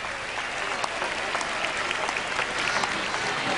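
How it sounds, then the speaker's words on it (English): A large crowd at a 1980 Parramatta versus Canterbury rugby league match applauds steadily, a dense wash of clapping heard from a distance that continues throughout without pause. "the crowd giving him great sympathetic applause, and that is very nice to hear"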